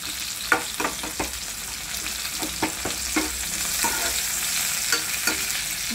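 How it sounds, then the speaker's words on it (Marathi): Onion fries in a pan with a constant bright sizzle, broken by repeated scraping strokes of a spatula stirring it, close and loud, no voices. "आणि कांदा भाजून घ्यायचा।"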